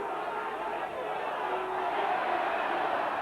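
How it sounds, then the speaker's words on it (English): Rugby league crowd at a 1992 Leeds versus Widnes match, a steady broad roar from the stands that reads as sustained booing, continuous and moderately loud throughout. "The crowd booing for some unknown reason."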